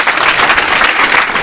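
An audience claps for a teacher at an academy event, a dense, loud, steady burst of applause with no talk over it.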